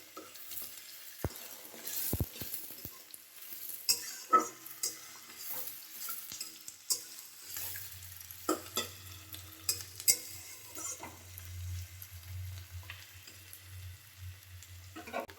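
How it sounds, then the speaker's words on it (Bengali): Onions with green chillies fry in a pan, making a quiet, steady sizzle broken by repeated scraping stirs and light clinks of a spatula against the metal. "পেঁয়াজটা ভাজা হয়ে গেছে"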